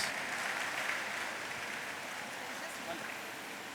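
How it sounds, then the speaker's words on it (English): A steady wash of applause from the audience at a formal old students' ball during an awards segment, even and sustained with no distinct individual claps, fairly faint and slightly distant. "A round of applause again."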